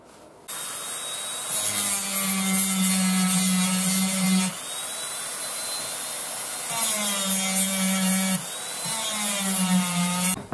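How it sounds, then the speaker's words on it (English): A small Dremel rotary tool grinds the internal curve of a refurbished knife blade, a thin high whine that repeatedly bites into the steel with louder rasping passes. No one speaks. "I get my little Dremel out and I'm going to do the internal curve, so there and around there with the Dremel"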